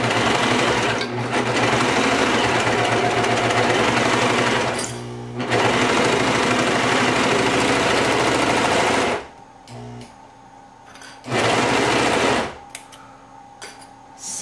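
A Brother 1034DX serger runs along a fabric edge while sewing baby bell-bottom pants, a loud, rapid, steady mechanical whir in long runs that stop, restart and stop again with brief quiet pauses.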